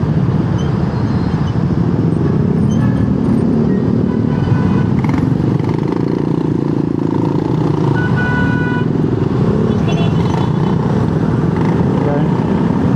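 Motorcycles and cars moving along a busy road, heard from a Yamaha XMAX 300 scooter, with a loud continuous engine and traffic roar, wind rumble and occasional short horn toots, and someone talking over it throughout.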